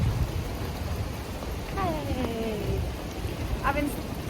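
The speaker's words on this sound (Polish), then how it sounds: "Teraz, teraz jest burzą." Steady rain falls during a thunderstorm in Miami, a dense broadband hiss filling the whole stretch at moderate loudness, with brief tonal voice-like sounds rising above it midway and near the end.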